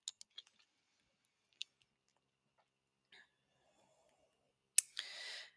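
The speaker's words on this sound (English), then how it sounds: "You should be typing all the buttons necessary and practicing for muscle memory." Calculator buttons pressed in quick succession: a few soft, close clicks at the start, a lone click shortly after, then a short rustle and a breathy hiss at the end, with no talk.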